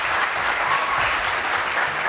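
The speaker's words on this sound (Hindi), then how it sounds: "कहते हैं सरबराह को देखकर तालियां बजानी" Steady, dense clapping from a television studio audience, continuous and fairly loud, with no voice over it.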